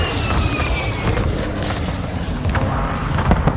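Airstrike explosions in Call of Duty: Modern Warfare II rumble as a dense, continuous roar of booming blasts and debris crackle, loud and close throughout.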